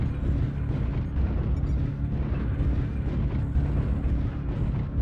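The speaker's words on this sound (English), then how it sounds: "Giving him an airstrike." An airstrike explosion in the video game MechWarrior Online: a heavy, sustained rumbling blast that roars continuously at an even loudness with no pauses.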